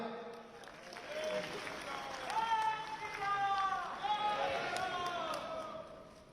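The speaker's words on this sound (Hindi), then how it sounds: "श्री राम का उद्घोष और तालियां।" A crowd chants "Shri Ram" in unison with applause underneath at a book launch ceremony at Delhi University, the rhythmic call rising and repeating over a few seconds.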